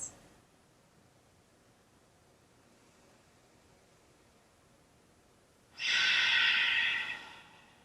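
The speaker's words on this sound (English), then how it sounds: "These are deep yoga breaths, not stressed out people breaths." A slow, deep yoga breath during a flow class: quiet room for most of the stretch, then one long, airy exhale rises near the end and lasts about two seconds before fading.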